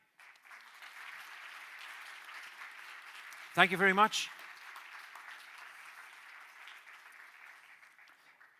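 Audience applause bursts out loudly for a few seconds at a fisheries and ocean science seminar after a panel of speakers is named, rising from under steady room noise and a brief spoken thanks, then fading.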